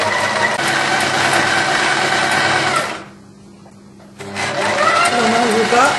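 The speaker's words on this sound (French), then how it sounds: "Maintenant, on va surfiler la couture qu'on vient de faire." A sewing machine overcasts the seam of a simple shirt sewn from a kit, running steadily and close up, pausing for about a second midway, then resuming.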